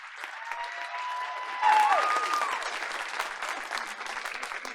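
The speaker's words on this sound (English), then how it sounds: "Let's give her a round of applause." Applause from the audience at a school board meeting, steady clapping that swells louder partway through and then carries on evenly, with a brief whistle-like tone riding over it near the start.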